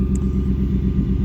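Ford F150 fitted with an MBRP Street exhaust idles with a deep, steady V8-like rumble, loud and close with a regular low pulse throughout.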